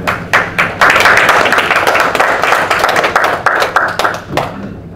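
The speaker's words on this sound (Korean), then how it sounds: "우리 목사님, 선교사님 나오실 때 크게 박수 많이 해주세요" Church congregation applauding a missionary pastor who serves Hansen's disease patients as he comes forward at a Korean-American Christian doctors' association installation ceremony; steady, loud clapping with sharp individual claps standing out, tapering near the end.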